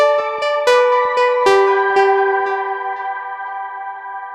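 A Cherry Audio Chroma synthesizer pad drenched in vast, spacious 100% wet galactic reverb: a few notes strike in quick succession, then blend into a shimmering wash that slowly fades.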